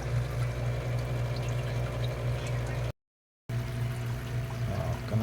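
Fresh water pours steadily into a fish tank holding guppies, mollies, goldfish and koi during a water change, a continuous close rushing flow with one brief gap of silence.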